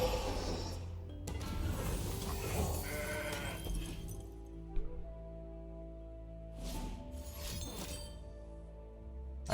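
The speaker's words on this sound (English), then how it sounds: "we can go with our Mountain Goat here" The Mountain Goat card in Legends of Runeterra sounds with a goat-like bleat and glassy clinking effects, mid-level and close, amid layered game music and interface chimes.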